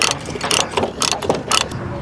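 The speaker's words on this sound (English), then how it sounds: "Put your binder, pull it nice and snug." A ratchet chain binder is cranked tight on an excavator tie-down chain, giving loud metallic clicking bursts in a quick uneven rhythm of about six strokes, close and without talk.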